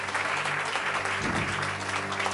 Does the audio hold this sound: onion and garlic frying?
no